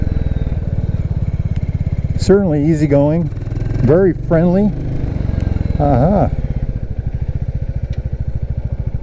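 Steady, close thumping idle of a 2022 Royal Enfield Classic 350 motorcycle, running evenly throughout while someone talks briefly over it.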